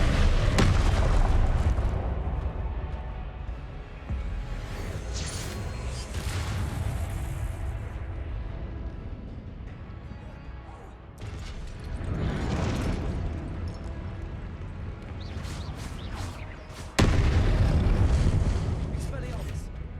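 Expelliarmus spells blasting in the video game Hogwarts Legacy, several loud booming bursts spaced through a noisy magical duel, with a player shouting over the game sound.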